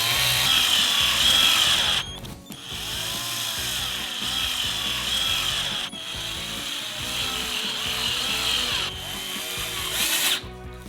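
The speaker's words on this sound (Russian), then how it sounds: "И зафиксировать их шурупами." A power drill drives screws to fasten iron corner brackets onto plywood sheets, loud whirring bursts with brief pauses between screws, close by and without talk.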